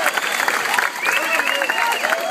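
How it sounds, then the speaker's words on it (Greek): An audience at a live comedy show in a Greek club claps in a dense, sustained wash of applause with some cheering, while voices talk over the noise. "Αντί αυθόρμητο χειροκρότημα."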